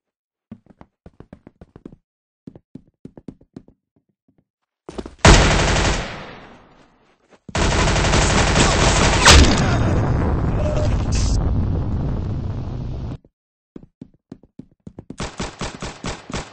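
Gunfire in the Roblox shooter Arsenal: sparse single shots early, then a sharp blast and a long sustained burst of rapid automatic fire, followed after a pause by more rapid shots.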